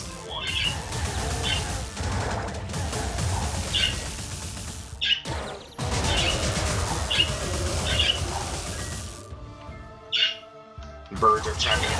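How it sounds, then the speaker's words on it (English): Birds squawk and chirp in short, scattered calls against busy game sound from Wizard of Legend, with a voice talking over most of it. "Birds are chiming in to let me know I'm just being a big old whip."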